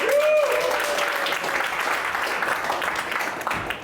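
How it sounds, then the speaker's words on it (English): Audience applause at an improv show in a classroom, dense clapping that stays steady throughout, fairly loud and nearby with no voices over it. "Let's get them started with a round of applause"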